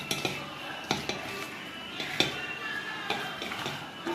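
Raw banana slices being tossed with chilli powder in a bowl, with repeated clinks and scrapes of a spoon against the dish in an irregular rhythm, close and fairly quiet.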